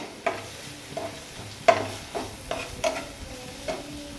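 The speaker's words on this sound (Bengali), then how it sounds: "দিয়ে দেবো বন্ধুরা, দিয়ে ভালো করে আমি নেড়ে ছেড়ে নেবো।" Masala Maggi noodles are stirred with Maggi masala in a pan. A series of quiet, separate scraping strokes comes at an uneven rhythm over a soft, low sizzle.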